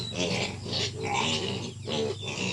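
Piglets on a farm grunt in a dense, continuous jumble of squeals and snorts, close and fairly loud throughout, with no talk.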